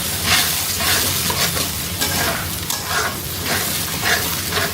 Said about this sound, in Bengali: মশলাটাকে হচ্ছে আমি খুব ভালোভাবে কষিয়ে নেব